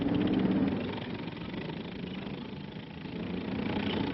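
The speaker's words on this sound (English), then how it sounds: "Located in the rear of the vehicle are the 250 horsepower V8 liquid-cooled diesel power plant" A 250 horsepower V8 liquid-cooled diesel engine, mounted at the rear of an army universal engineer tractor, runs with a steady low rumble that holds through the whole clip, slightly louder at the start.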